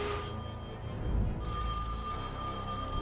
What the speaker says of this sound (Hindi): फोन आया है। फोन मत उठाओ।